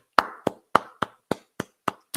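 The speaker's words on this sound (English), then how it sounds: "Applause to everyone." A single person claps hands eight times in an even, slow rhythm, each clap sharp and close, with quiet gaps between.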